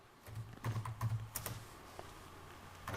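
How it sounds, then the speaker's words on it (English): Close, quiet typing on a computer keyboard, a short burst of soft clicking keystrokes. "then here I'm typing"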